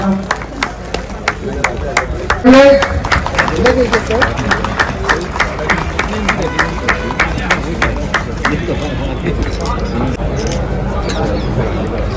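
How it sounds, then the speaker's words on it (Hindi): A crowd at a railway workers' federation centenary event claps in quick, regular bursts that run steadily through the whole stretch, partly under someone speaking loudly over a PA and general hubbub. "नीचे जोरदार तालियां बजाइए।"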